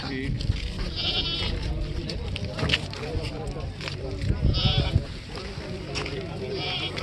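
Goats on a farm, including two male goats, bleat in short bursts through the clip, mixed with steady background noise and people talking nearby.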